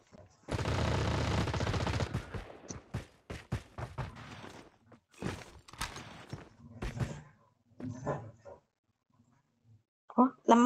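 Gunfire in a battle royale video game: a dense burst of automatic shots, followed by scattered single shots and thuds, with players talking over the action.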